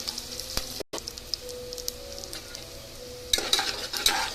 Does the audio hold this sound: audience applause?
no